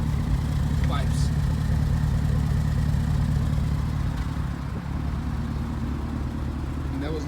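A Lamborghini Urus fitted with a Mansory kit idles with a deep, steady engine rumble and a continuous low burble from its exhaust, nearby and fairly loud, with a few faint pops and a voice speaking over it.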